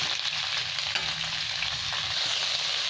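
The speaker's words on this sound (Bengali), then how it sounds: "এটা ভেজে নেবো একটু হালকা করে।" Carrot and other vegetables frying lightly in a pan for Bengali khichudi, a steady close sizzle with soft stirring scrapes running throughout, no voices.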